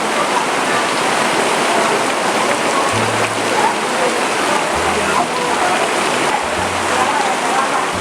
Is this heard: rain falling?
yes